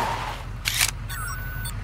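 A camera shutter clicks twice in quick succession over a low steady background rumble, both snaps sharp and close, with no talk.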